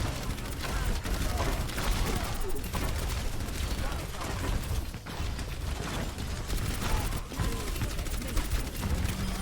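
Gunfire from the hero Orisa in Overwatch plays as a dense, continuous barrage of rapid mechanical shots, loud and steady across the whole stretch with brief dips, alongside busy game noise.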